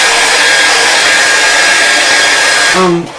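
A loud hair dryer blows close by as it dries paint on a landscape painting, producing a steady roaring hiss that runs throughout and winds down with a brief falling whine at the end.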